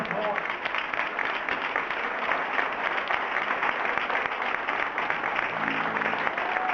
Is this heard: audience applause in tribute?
yes